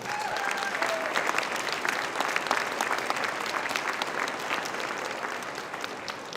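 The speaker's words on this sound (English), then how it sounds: "Round of applause for good grandmother." Sustained audience applause fills a festival author's dinner, a dense even wash of many hands clapping throughout, with faint voices mixed in.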